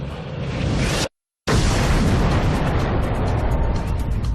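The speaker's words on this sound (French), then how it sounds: "C'est l'explosion de ce point, plusieurs millions de fois plus petit qu'une tête d'épingle, qui va engendrer l'univers." Cosmic fireball explosion birthing the universe, rendered as a dense, roaring rumble that cuts to total silence for a moment, then bursts back as a loud, sustained blast that slowly thins.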